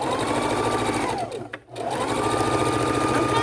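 A sewing machine runs in a steady, fast whir while stitching a fabric adult bib, pausing briefly in the middle before resuming at full speed.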